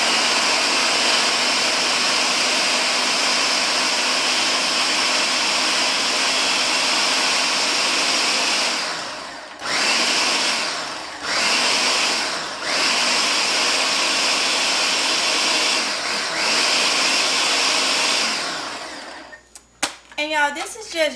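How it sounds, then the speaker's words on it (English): Kitchen blender whirring loudly and steadily for about nine seconds, then stopping and starting in several short bursts before cutting off, with someone talking over parts of it. "Let's turn my blender on."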